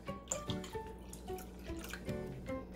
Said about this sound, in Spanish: y voy a agregar una taza completa de vinagre blanco.